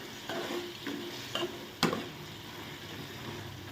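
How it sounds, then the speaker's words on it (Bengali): Shrimp frying and masala being stirred in a pan, with a steady close sizzle broken by several sharp scraping stirs and clinks of the utensil against the pan, no talking. "আর এদিকে চিংড়ি মাছ ভাজি করে রাখছি, মশলা কষাইতেছি।"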